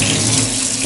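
Water gushes loudly and steadily from a tap as a container is filled during cleanup after painting, a close, continuous rush with no voices.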